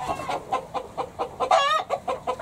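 Chickens in a coop cluck repeatedly in a steady, near rhythm, with one louder squawking call rising midway; the birds are kept as fighting roosters and ornamental breeds.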